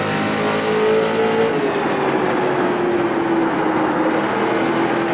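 Race car tires scrubbing through a corner in the iRacing video game, a 1963 Street Stock at Southern National Motorsports Park, a steady loud roar of engine and tire noise with a sliding tonal whine and no talk.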